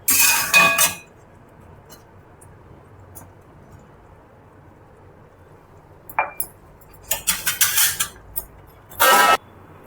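A cooking pot's lid comes off while bottle gourd simmers in a yogurt curry, giving several short metallic clinks and clatters near the end after a quiet stretch, with one earlier clank at the start.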